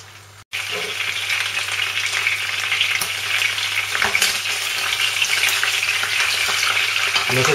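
Salted pork cheeks dropped into hot olive oil to sear, giving a loud, close, continuous sizzle and crackle that starts abruptly after a brief clatter and holds steady, with no talking.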